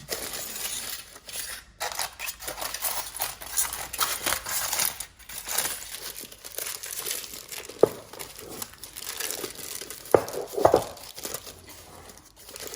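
Aluminium foil is crinkled and crumpled around a pudding basin for a steamed English pudding, close-up crackling in irregular bursts with a few sharper crunches toward the end.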